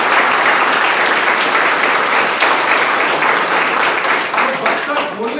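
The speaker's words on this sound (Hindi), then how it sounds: "इतनी सारी इनकम है तो इसके लिए जोरदार ताली हो सकती है।" Loud, sustained audience applause fills an indoor event hall, a dense close wash of many hands clapping at once that runs without pause, with crowd voices mixed in.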